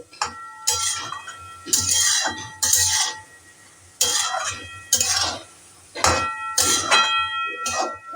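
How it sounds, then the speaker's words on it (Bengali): Metal pot lid lifted and handled over cooking masoor dal with potato, giving about eight sharp ringing clanks and clinks at irregular intervals, close and fairly loud, with no talk. "আমি এখন ঢাকনাটা একটু খুলে দেখাবো দেখুন কতটা জল রিলিজ হয়েছে"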